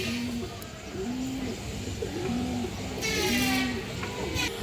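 Pigeons of a Kajla-eyed fancy breed coo in a loft, several low rounded calls repeating at a steady pace amid general background noise and a brief hiss near the end.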